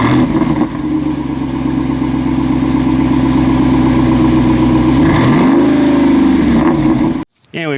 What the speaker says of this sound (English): Since this one has that big old V8, you want to be able to hear that.